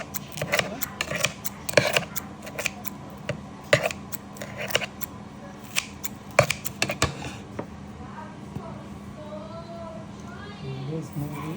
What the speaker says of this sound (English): I'm cutting it with my kitchen scissors.